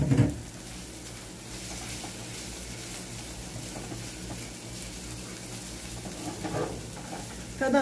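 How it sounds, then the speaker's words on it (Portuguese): Chopped garlic frying in a pan with wilted greens, giving a steady close-up sizzle that swells briefly near the start, middle and end, with no talking over it. "Vou botar o alho, gente, agora."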